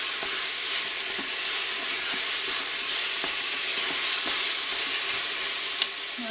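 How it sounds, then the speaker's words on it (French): Onions fry until golden in a pan, giving a loud, dense, continuous sizzle and hiss with faint intermittent ticks and crackles. "J'ajoute les oignons. Que je fais dorer un petit peu."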